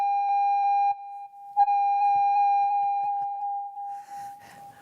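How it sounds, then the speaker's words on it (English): An electronic doorbell chimes with a sustained, pure ringing tone, loud and close, briefly breaking off then resuming before fading out amid faint shuffling. "I think it's a doorbell."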